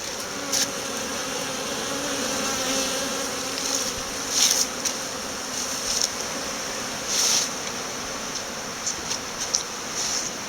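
Honeybees fly and buzz in bad weather during a cleansing flight, a steady close hum with louder buzzing passes as individual bees sweep by the microphone, no talking.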